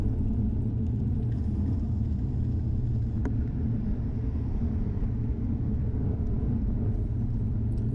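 GoPro camera riding along a bumpy road, picking up a loud, steady low rumble of road and vehicle noise that continues throughout, with an occasional faint knock and no talking.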